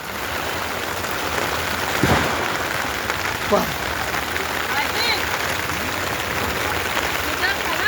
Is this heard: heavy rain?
yes